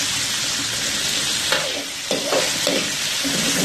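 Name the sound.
boneless chicken cubes sautéed with green chilli and ginger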